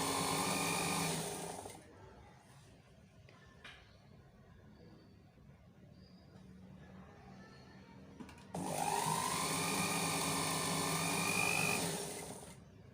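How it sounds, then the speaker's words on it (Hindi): A sewing machine stitches fabric from the reverse side while a garment neckline and sleeves are sewn, running in two steady motor-driven bursts close by with a quiet pause between them. "अब ये इस तरफ, इसको उल्टी तरफ से सिलाई लगा देंगे।"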